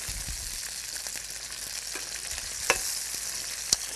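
Sweet-potato-crusted haddock fillets fry in a pan with a steady, fairly quiet sizzle, with a couple of sharp clicks as the pieces are flipped.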